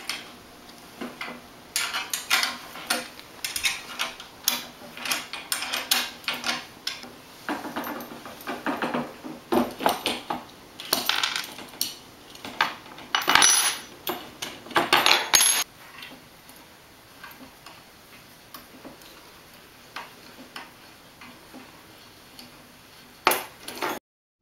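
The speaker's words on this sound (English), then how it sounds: "Turning the pivot bolt counterclockwise will help you get it out of the hole." A wrench turning a pivot bolt counterclockwise to remove it during sail assembly: sparse, irregular metallic ticks and clicks, close and moderately loud, with quieter gaps and no talk.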